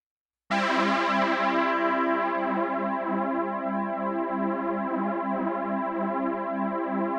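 A sustained analog synth chord, run through a manually adjusted chorus pedal, starts abruptly and rings out loud and alone, its shimmering harmonics slowly thinning.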